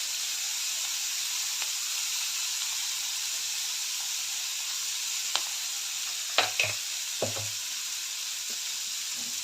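Onions fry in a pan with onion-garlic masala, a steady soft sizzle running throughout with a few sharp clinks of a spoon stirring near the end.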